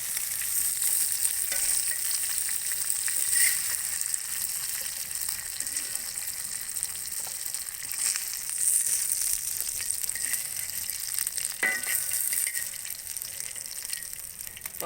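River catfish fry in oil over a firewood stove, a steady bright sizzle and crackle with occasional stirring scrapes, continuous and close.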